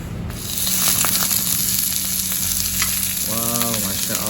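Food frying in a pan with garlic sauce gives a steady, dense sizzle with scraping stir sounds running throughout, close and continuous, with a brief tonal voice-like sound near the end.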